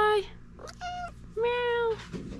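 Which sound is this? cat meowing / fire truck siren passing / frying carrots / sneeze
cat meowing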